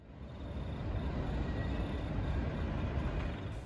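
The Indian Pacific passenger train rolls slowly past at Sydney Central Station, its baggage car passing as a steady low rumble and rattle of wheels on track, moderately close and unbroken, with no talk.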